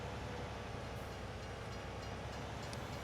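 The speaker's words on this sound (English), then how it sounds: "There's the train there." A train in the Farming Simulator 19 video game rumbles past at a distance, a steady, faint rolling drone with no talk.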